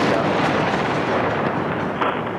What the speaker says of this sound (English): Much, much larger explosions than last time.